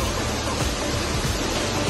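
A dense, steady roar of rushing water from a strong waterfall close by at Robber's Cave (Guchupani), Dehradun, continues without a break.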